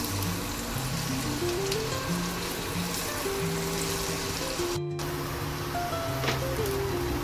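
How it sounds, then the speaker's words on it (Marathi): Chopped onions sautéing in oil in a pan for pav bhaji, a steady close sizzle under soft background music, continuous with a brief cut near the middle. "कांदा छान आपण गोल्डन होईपर्यंत परतून घेऊया."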